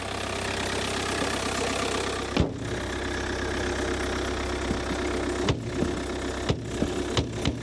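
An old diesel Audi engine running nearby, a loud rough idle with a steady low rumble and knocking clatter, broken by a couple of sharp clunks and thumps.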